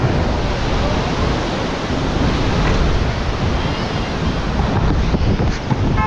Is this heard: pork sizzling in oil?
no